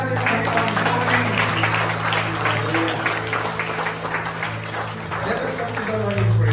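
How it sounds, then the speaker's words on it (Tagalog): A church congregation applauds during a Sunday morning worship service, with dense, steady clapping that stays loud throughout over a low hum. A voice speaks over the applause. "Palakpakan natin ang Panginoon sa morning."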